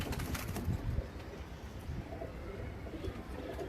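Soft, low cooing of Teddy and Rampuri pigeons repeats against a faint, murmuring background, with a few light flutters.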